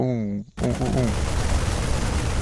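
A voice is cut off by a sudden burst of heavy tank gunfire in a video game, a dense rumbling barrage of shots continuing loudly to the end.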